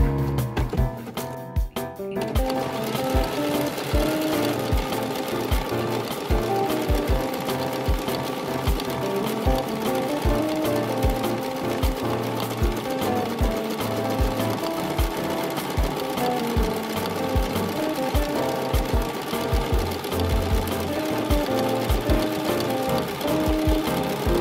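A sewing machine stitching a buttonhole on a pinafore garment, a fast steady mechanical chatter running continuously at close range, briefly pausing near the start, with no talking.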